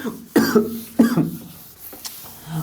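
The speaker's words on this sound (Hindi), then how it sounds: "मुझे थोड़ी खांसी है" A man coughs several times in a short, harsh burst, with a throat clearing near the end, close to the microphone in a quiet room.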